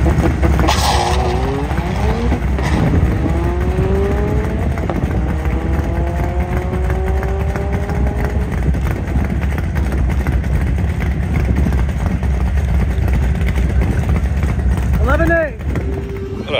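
A stock-turbo E30 Focus ST and an E30 S280 Fiesta drag race at a track on opening day, engines revving hard and climbing through gears loud and near, with people talking over the roar.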